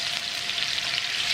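Tofu frying in an abundant amount of hot oil, a dense steady crackling sizzle heard up close and alone, with no talk over it.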